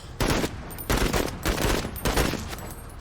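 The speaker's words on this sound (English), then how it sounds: "Keep firing those weapons, Marines!" Weapon gunfire in the video game Menace, four loud bursts of rapid automatic fire separated by brief pauses, close and punchy with no talking.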